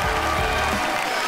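Brief burst of audience applause at the close of a live stage duet, dense clapping mixed with band sound that thins out toward the end.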